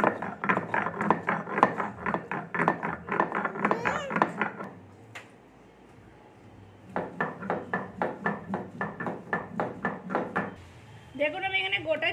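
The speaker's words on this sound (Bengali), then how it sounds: "মৌরিটা আমি বেটে নিচ্ছি।" Fennel seeds being ground by hand on a flat grinding stone, a steady run of rhythmic rasping strokes close by, pausing briefly midway before resuming at the same brisk pace.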